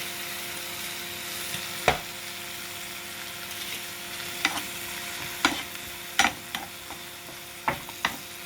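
Birch bolete mushrooms frying in butter in a pan, a steady soft sizzle throughout with several sharp clanks and scrapes of a utensil stirring, close and fairly loud, no talking.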